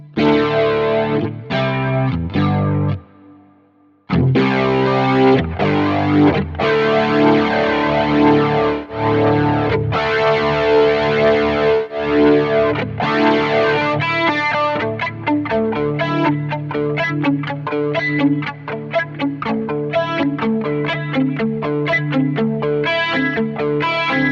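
Electric guitar run through flanger effects on a Quad Cortex processor, with strummed chords and picked notes sweeping in a swirling, jet-like wash. One brief pause falls early on, then busier rhythmic picking follows.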